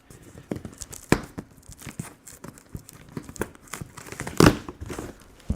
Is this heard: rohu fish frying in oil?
no